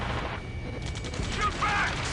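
Gunfire in an Ace Combat video game firefight: rapid, dense bursts of automatic weapons crackle over a rumbling battle bed, close and fairly loud, with a faint voice mixed in.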